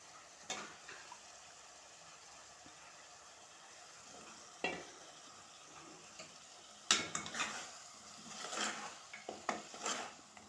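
Cut eggplant pieces are stirred in a pan for a curry, giving soft intermittent spoon scrapes and clatters over a faint sizzle, fairly quiet and unhurried.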